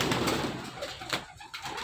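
Original racer pigeons from Bangladesh coo in low, rolling murmurs at close range, with a brief dip and a flutter-like rustle partway through before the cooing resumes.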